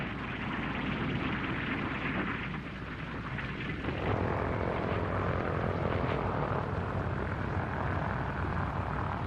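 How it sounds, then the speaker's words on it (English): B-17 Air Force drone aircraft landing at Eniwetok, a dense continuous roar of propeller engines that grows slightly heavier partway through, loud and unbroken with no talk. "B-17 Air Force drones land at Inawitok."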